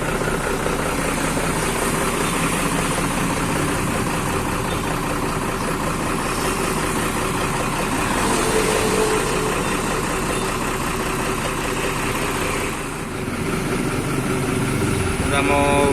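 A truck, a bus-style truck with a loud wolf-style exhaust, idles with a steady, heavy rumbling drone that fills the whole stretch, holding nearly constant loudness throughout.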